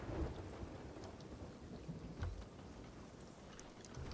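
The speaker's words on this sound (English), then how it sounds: "Alright, we're in the storm." Storm at sea in Sea of Thieves, steady rain and wind with low rumbling thunder and occasional sharp cracks, continuous and moderately loud.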